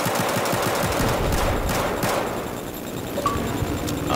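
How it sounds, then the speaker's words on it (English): A pistol in Battlefield 4 fired in a rapid string of sharp shots, dense and close at first, then thinning out into a few more spaced cracks. "Let's see how fast I can shoot the pistol."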